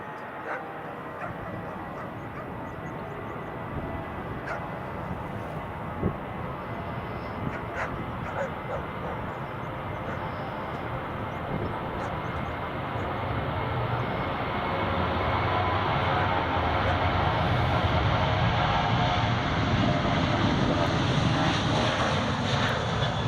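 An airliner taking off at Edinburgh Airport, its engine roar swelling steadily and growing louder toward the end, heard at a distance outdoors.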